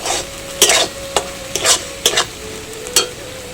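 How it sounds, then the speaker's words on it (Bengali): Spice paste for paneer malai curry stir-fried in a pan: a steady close sizzle with sharp spatula scrapes and knocks every half second or so, loud and without talk. "মশলাটা খুব ভালো করে কষিয়ে নিতে হবে।"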